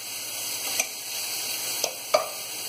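Liver fillet fries in a pan with a continuous close sizzle, broken by a few brief sharp pops and crackles.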